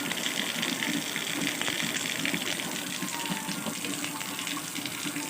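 Water gushes from an outdoor tap into a container on a rainy day, a constant, fairly loud rushing splash with no breaks and no talking.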